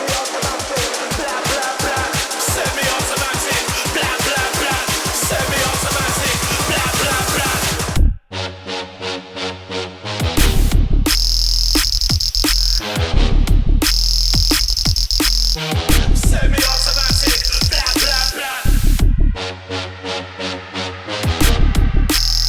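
An electronic drop recreated in Ableton pulses loudly with dense, buzzy synth hits and a piercing, cricket-like laser synth that chirps in short bursts over heavy bass, continuous and close.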